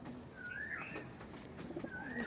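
Andhra pigeons of a Chennai strain coo in a short, moderately loud exchange of soft calls, with steady low background noise and no talking.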